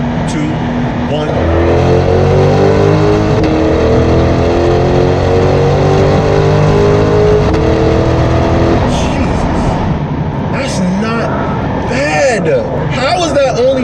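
A Corvette C8 Stingray pulls hard in third gear from about 4,600 rpm, its engine note climbing steadily and loudly before easing off. Voices talk over the engine in the latter part.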